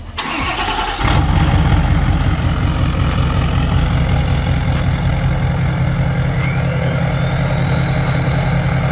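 A Mazda Miata engine cranks briefly, catches and settles into a steady, loud idle with an even mechanical chug that continues unchanged to the end, with no talking.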